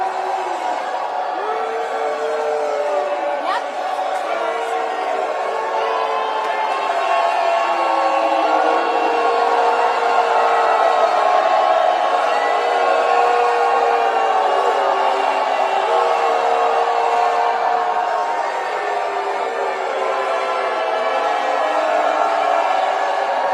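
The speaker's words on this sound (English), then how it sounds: "go back to this glorious booing of JD Vance" A large crowd boos JD Vance: a sustained roar of many low, drawn-out voices that fills the air for over twenty seconds, swelling slightly in the middle and holding steady and loud throughout.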